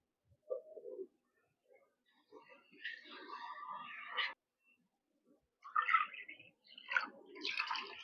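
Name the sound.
water poured from a bowl into rice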